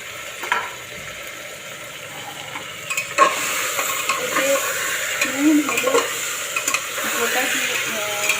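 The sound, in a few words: chicken frying and being stirred with spices in a pan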